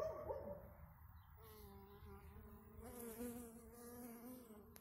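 A soft, steady buzzing of bees drifting close by as they forage on flowers near an apiary, faint and continuous with no talking.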